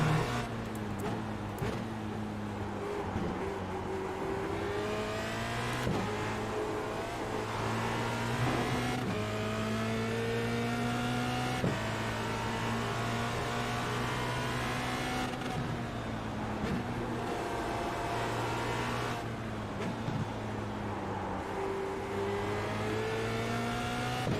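Formula Renault 2.0 race cars run on track in an official race, engines droning and revving steadily with rising and falling pitch as cars shift gears, heard from a moderate distance throughout.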